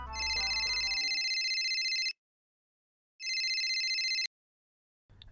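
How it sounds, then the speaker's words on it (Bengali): A telephone rings for an incoming call with a bright electronic ringtone, two long sustained bursts separated by a gap of silence, clear and close. "ভাগ্নে ফোন করে বলে"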